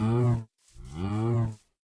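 Two drawn-out sheep bleats in a video game sound close and clear, a short call followed by a longer wavering one, with no other sound around them.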